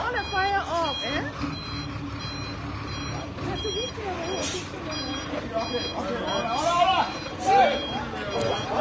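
A water truck from a fish market reverses along a road after a fire, its backup beeps sounding at a steady pulse over crowd babble and voices of people directing it.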